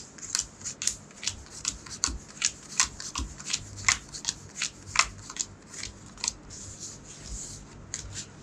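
A deck of cards for a solo board game is shuffled, giving a long series of crisp riffling snaps and flutters at an irregular, quick rhythm, close and quiet, with no talking.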